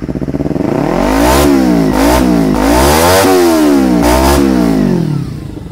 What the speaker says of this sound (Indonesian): mesin sangat halus